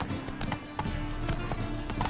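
Roach the horse galloping on a road in The Witcher 3, with rapid, rhythmic, close hoofbeats in a steady clip-clop pattern throughout.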